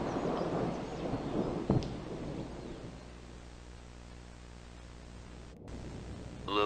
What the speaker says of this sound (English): Storm's brewing up.